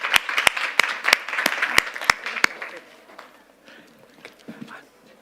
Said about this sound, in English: Please give them a very, very big applause.